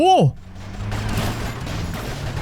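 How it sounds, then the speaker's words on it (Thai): Gunfire in the Grand Theft Auto Vice City video game, a burst of loud shots and mechanical clatter after a brief tonal sweep, with someone talking over the action. "มันยิงมาแล้วมันยิงมาแล้ว"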